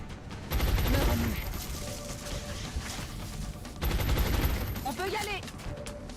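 Sustained suppressive gunfire from XCOM, a dense rattling fusillade in two long bursts separated by a short lull, loud and up close, with faint talk underneath.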